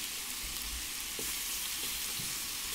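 Lamb pieces searing in a hot pan, a steady, fairly quiet broadband sizzle that holds evenly throughout with a few faint pops, no voices.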